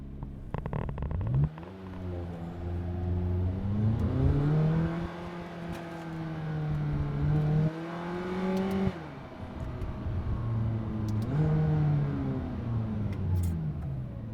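A McLaren sports car engine revs repeatedly, rising and falling in several sustained pulls with a deep harmonic drone, loud and close, no talking.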